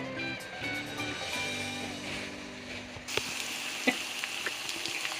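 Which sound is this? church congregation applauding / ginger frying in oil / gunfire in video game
ginger frying in oil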